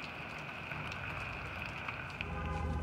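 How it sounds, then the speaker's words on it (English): Freezing rain falls outdoors as a steady, dense patter and hiss, continuous and fairly even, with a few sharper ticks of drops striking nearby surfaces. "Freezing rain out here."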